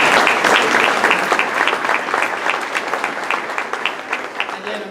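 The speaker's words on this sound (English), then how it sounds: "Please give him a round of applause." Audience applause, moderately loud clapping that sustains then gradually thins and softens over about five seconds.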